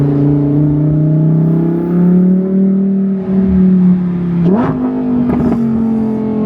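A car accelerates hard through a tunnel, its engine a loud, deep, reverberant drone that rises in pitch, then jumps sharply after a gear change and keeps pulling.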